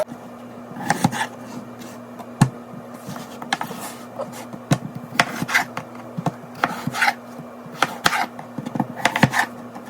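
A knife cutting potatoes, close, irregular chopping strikes and scraping rubs spread through the clip with short pauses between cuts, over a faint steady hum, no speech.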